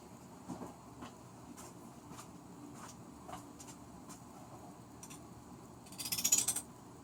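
Scissors trim the edges of an epoxy-wet carbon fiber layup, giving a quiet series of crisp, spaced snips and ending in a louder, hissy crunching cut.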